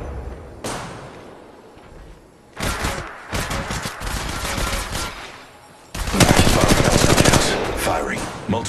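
Bursts of automatic gunfire in the mobile battle royale game Apex Legends Mobile, loud rapid volleys coming in two main waves separated by brief quieter gaps, with a sustained heavy stretch at the end.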